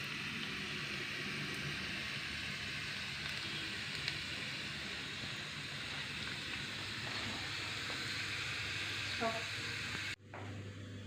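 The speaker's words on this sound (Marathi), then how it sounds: "हा बारीक चिरून ठेवलेला लसूण टाकू. आता हा मंद गॅसवर कुरकुरीत होईपर्यंत" Finely chopped garlic fries over a low gas flame, giving a steady, broad, hissing sizzle that holds for about ten seconds and then cuts off abruptly.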